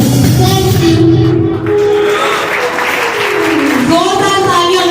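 A church congregation at a carol Sunday program applauds loudly and steadily throughout, with voices and tones sounding over the clapping.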